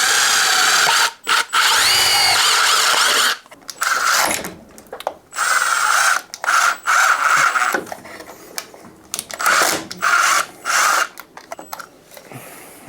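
A power drill boring a 20mm hole during a home security installation, a loud close whine that starts and stops in repeated bursts with short pauses between.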